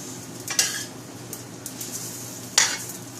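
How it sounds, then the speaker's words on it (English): A spoon stirring vegetarian soup in a pot, two sharp scraping clinks against the metal spaced about two seconds apart, with fainter scrapes and a soft simmering bubble running underneath. "I'll just give it a good stir."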